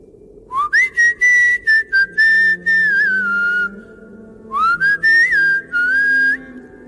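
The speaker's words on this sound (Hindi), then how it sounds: "ढूंढते हुए ऐसे ही एक धुन सीटी की बजाई।" A clear, high whistled tune in two melodic phrases separated by a short pause, close and loud over a quiet background.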